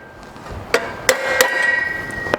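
A hammer taps a truck trailing arm bushing sleeve in a Chevy or GMC truck, with three or four sharp metallic strikes at uneven intervals followed by a fainter final tap, close and clear.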